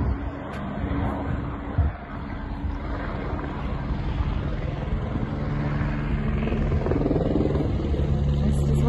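An arriving helicopter drones as a steady, rumbling low whirr of rotor and engine, gradually growing louder and heavier over several seconds, with some wind buffeting on the microphone.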